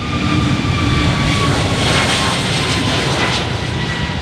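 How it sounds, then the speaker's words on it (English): An aircraft roars loud and steady during a steep takeoff and climb at the Farnborough Airshow 2024. The broad engine noise holds constant, with a faint whine running through it. "Expecting a steep takeoff, climb and turn."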